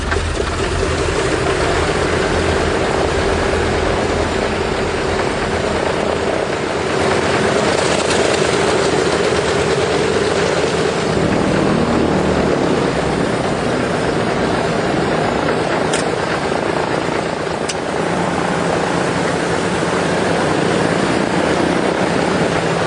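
A World War II C-47 transport aircraft's twin piston engines drone in a loud, continuous roar as pathfinder planes take off. The steady throb shifts slightly partway through and carries on unbroken, with no voices.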